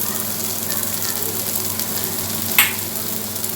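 Ground spices and potatoes frying in a pan while being stirred, a constant close sizzle with one sharp clatter near the end.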